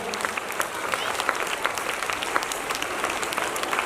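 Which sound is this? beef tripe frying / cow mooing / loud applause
loud applause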